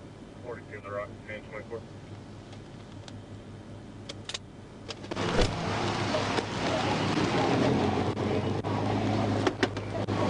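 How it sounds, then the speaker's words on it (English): A car at a red light on Main Street pulls away under hard acceleration as a state trooper reaches the window, the engine swelling into a steady louder roar after a few seconds of quieter idling and clicks. "The driver came to a stop at a red light on Main Street, but decided to hit the gas just as the trooper approached the window."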